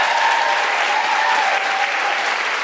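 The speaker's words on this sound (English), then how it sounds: "can you give them a huge round of applause?" A large audience claps loudly and continuously for the crew behind a show, a dense, even wash of applause from start to finish.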